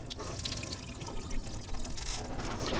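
Water drained off rinsed rice, a steady close splashing trickle with small drips running throughout, moderately loud and without any talking.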